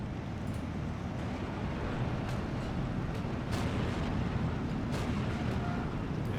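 Artillery shells land on tanks in Steel Division 2, a World War II strategy game, producing dull booms and crackling impacts over a constant roaring battle din, with a few sharper hits standing out.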